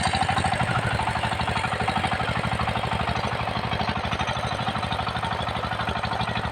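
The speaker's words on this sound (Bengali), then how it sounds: "ইঞ্জিনের সাউন্ডটা আর একটু দেখবো" A 25 hp Changchai diesel engine on a power tiller runs steadily, its rapid, even thumping pulse continuing without change for the whole stretch, fairly close and with no voices.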